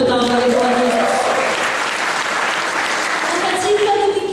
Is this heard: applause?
yes